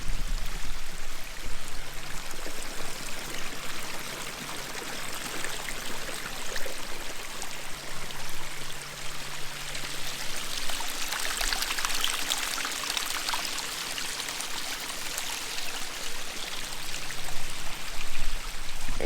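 A pondless backyard water feature runs continuously, water recirculating and cascading down in a steady, close splashing trickle with slight swells, heard with no talking.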